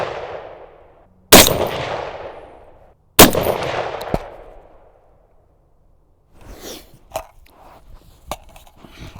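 A suppressed Ruger SFAR rifle firing reloaded rounds while hunting in Sweden lets off two sharp, loud shots with ringing decaying tails. Quieter mechanical clicks and handling noises follow afterward.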